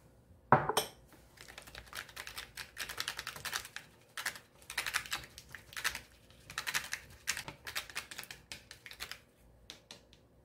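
Egg yolks seasoned with a little soy sauce and whisked in a bowl, a quick rapid ticking of utensil on the bowl in repeated bursts after one sharp initial knock, close and fairly quiet.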